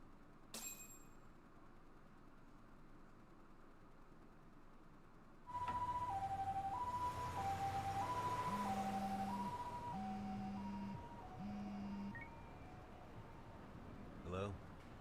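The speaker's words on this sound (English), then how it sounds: "Can you get an ambulance over to your bar right away?" An ambulance siren in the video game Lost Judgment wails in a two-tone pattern, starting suddenly after a quiet stretch and sounding at moderate volume against street background noise before fading.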